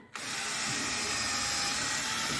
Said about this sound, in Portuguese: Fazendo a furação.